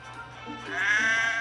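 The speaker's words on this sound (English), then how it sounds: "Some careless sheep had strayed onto the line." Sheep bleating, a drawn-out wavering call that swells louder in the second half, heard close and alone without talk.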